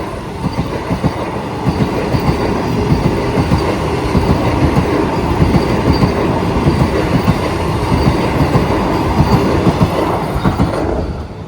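A train thunders past close by at a closed railway level crossing, a loud sustained rumble with rhythmic clickety-clack of wheels over the rails, fading slightly at the end.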